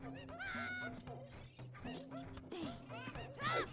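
Chicken clucks from The Legend of Zelda: Ocarina of Time during a randomizer run, a few short bird calls over busy game music and sound effects, with a louder squawk near the end.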